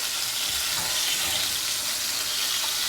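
Food searing in a hot pan as it is flipped over, a loud continuous sizzle with a bright hiss that holds steady, with a few soft scraping bumps near the start and no talk.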